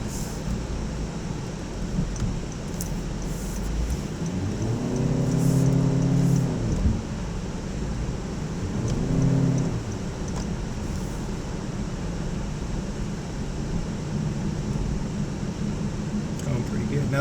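A 2019 Honda HR-V Sport picks up speed, its engine and road noise forming a steady broadband rumble with two brief swells of rising engine tone, heard from inside the cabin.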